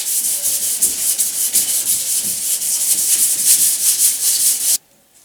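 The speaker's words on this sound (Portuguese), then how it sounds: "lixamento com a 320 executado" Hand sanding with 320-grit sandpaper levels primer on a Hilux Turbo body panel. The sound is a steady, rhythmic abrasive rasp of back-and-forth strokes, close and loud, and it stops abruptly near the end.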